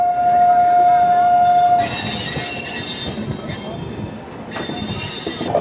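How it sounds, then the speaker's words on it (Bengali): A decorated Amrit Bharat Express passes close by with loud, sustained wheel squeal and grinding rail noise, preceded by a brief horn-like tone. "ওভারটেক করছে আমাদের আরেকটি অমৃত ভারত এক্সপ্রেস চোখের সামনে"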